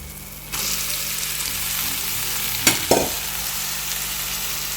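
Tomato curry with broad beans frying in a pan hisses steadily up close after a sudden start, broken by two brief scraping stirs midway, with no speech.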